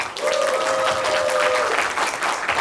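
An audience at a national urban farming activists' conference in Incheon applauds. The clapping is dense and sustained and runs for the whole clip, with a faint voice ringing briefly underneath.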